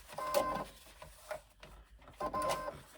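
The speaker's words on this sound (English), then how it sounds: "Now I come back and I fold this one back and I stitch the other side of the pocket." A sewing machine stitching a 1/4 inch pocket seam runs in two short bursts of rapid mechanical clatter, with a brief whir between them. The sound is close and moderately quiet, and no voice is heard.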